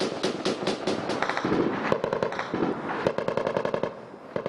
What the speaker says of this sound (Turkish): Kulakları sağır eden silah sesleri, havada çarpışan mermi izleri.